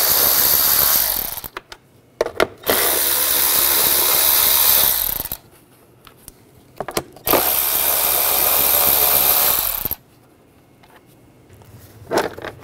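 Rapid ratcheting bursts from a 10mm socket wrench removing nuts from an engine cover on a 2006-2010 BMW 550i, three long close-up runs of clicking separated by quiet pauses and short taps.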